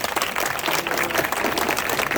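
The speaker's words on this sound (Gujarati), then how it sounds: "બેબી માટે એક જોરદાર તાળી." An audience at a magic show on Kali Chaudas night claps for a little girl, a short, dense burst of many hands applauding together.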